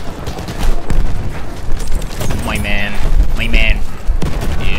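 Video game gunfire from Battlefield 1, with bursts of shots and booming blasts mixed into a dense battle din, while voices talk over the action.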